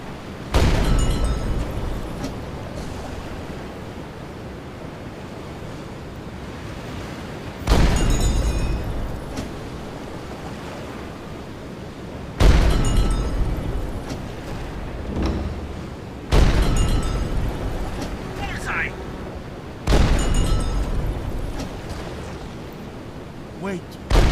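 Deck cannon on the bow of a submarine in a World War II naval video game fires in four separate heavy booms, each a loud close blast trailing into rumble, spaced several seconds apart over a steady engine drone.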